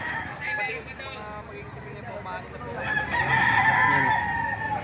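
Several roosters crowing among clucking fowl at a chicken market, the calls overlapping and growing louder toward the end while people talk in the background.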